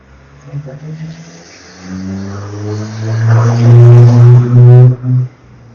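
Quad bikes drive around near Dashbashi Diamond Bridge in Georgia, one engine revving up loud and close before cutting off, with faint voices in the background.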